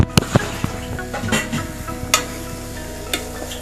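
Elephant yam flower thoran being stirred in a pan, with a few sharp scrapes and knocks of the spoon over a soft background sizzle.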